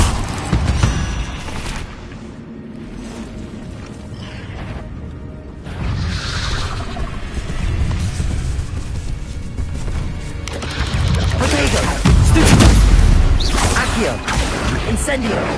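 Disarming spell cast during a spider fight in Hogwarts Legacy on PS4, a burst of magical whooshes and impact booms over a dense game soundscape with music and combat effects.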